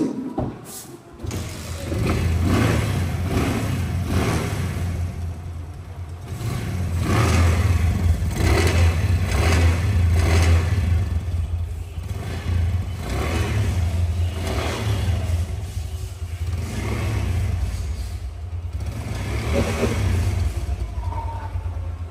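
An older Bajaj Caliber 115cc motorcycle engine is kick-started and keeps running close by, a steady low throb with repeated rises in revs across the clip and no talk.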